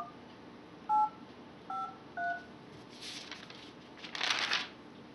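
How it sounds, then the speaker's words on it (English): Three short touch-tone keypad beeps pressed one after another, followed by faint rustling and a brief burst of hissy noise. "dial it now using the touch-tone keypad on your phone."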